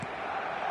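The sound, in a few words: stadium crowd in eFootball video game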